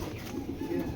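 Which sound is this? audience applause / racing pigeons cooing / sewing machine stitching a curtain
racing pigeons cooing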